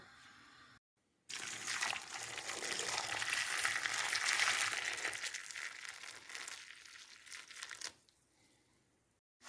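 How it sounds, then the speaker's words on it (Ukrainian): Boiling water is poured over scored tomatoes in a home kitchen while making a winter eggplant salad. A steady, close splashing hiss runs for about seven seconds, then cuts to quiet. "І заливаємо кип'ятком, ошпаримо на 2 е,"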